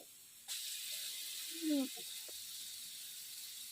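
Onion lightly fried in oil with garlic added, cooked for fried jute greens, gives a steady broad sizzling hiss that starts abruptly and continues, with a few faint clinks and a brief low voice-like sound partway.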